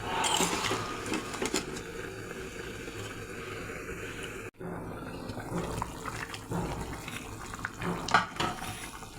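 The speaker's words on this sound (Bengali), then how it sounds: "এখন গরম করে দিয়ে দেবো ঝোলের জন্য গরম জল" Hot water poured into a pan of braised chicken curry for the gravy, a steady close splashing pour with a sharp break midway, then continued bubbling and clatter.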